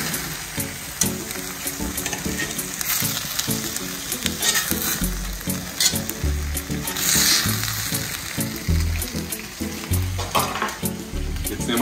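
Bacon pieces sizzle and crackle steadily in a pan with vegetables as they are stirred, a close, continuous frying hiss broken by occasional scrapes, with no talking.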